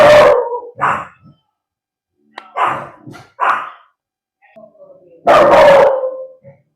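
Several loud, close dog barks and yelps in bursts, with a whining howl at the end.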